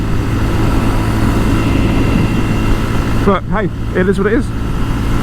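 A 2022 Honda Monkey motorcycle engine held flat out at full throttle in fourth gear on a slight incline, a steady drone with wind rush throughout, with a voice speaking briefly over it near the end.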